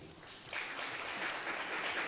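Faint, distant applause from a crowd that starts after a brief quiet moment and continues steadily.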